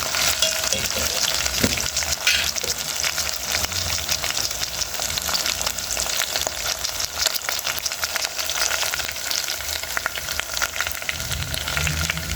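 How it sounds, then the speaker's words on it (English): Pork chops frying in oil in a pan, producing a loud, steady, continuous sizzle that holds evenly throughout with no talking. "Let it cook well, fry well"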